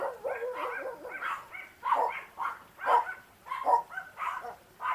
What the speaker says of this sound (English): dogs and their bark at the people walking through the house